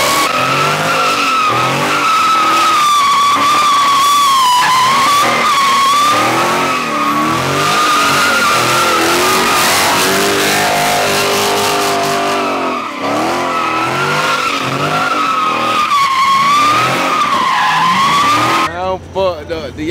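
Tires screech and skid continuously as a car spins and revs, loud and close, with the squeal wavering up and down for most of the stretch.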